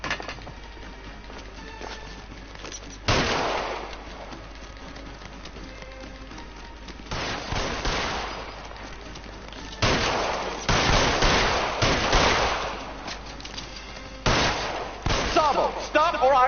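Repeated bursts of gunfire from the crime video game L.A. Noire, loud clustered volleys of shots separated by quieter stretches of game ambience.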